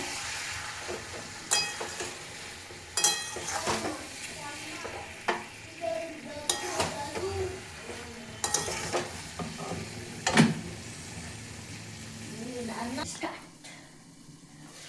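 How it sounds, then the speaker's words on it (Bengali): Chicken gravy with bay leaf paste being sautéed in a pan, with repeated scraping and clattering spatula strokes over a low sizzle and a voice talking in between, the stirring dropping away near the end. "দিয়ে দিলাম তেজপাতা বাটা। আবারও ভালোভাবে কষিয়ে নেব।"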